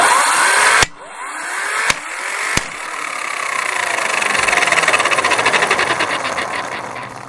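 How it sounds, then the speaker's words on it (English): Electric impact wrench loosening factory-tightened car wheel lug nuts, sharp metallic blows giving way to a loud, rapid, buzzing hammering that runs continuously for several seconds. "Once the socket is on the rim, press the loosen button."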